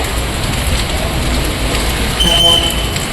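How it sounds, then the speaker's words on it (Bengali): Heavy rain pours in a dense, constant hiss that fills the whole scene without letting up, close and loud. "এই 3-4 দিনেই আজকে দেখো বৃষ্টি নেমে গেছে"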